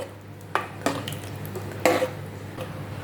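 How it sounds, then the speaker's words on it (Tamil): A spoon stirs a thick black chickpea gravy in a single cooking pot, giving a few distinct scraping knocks against the metal between quieter pauses, over a low steady hum. "நல்லா கிளறி விடுங்க."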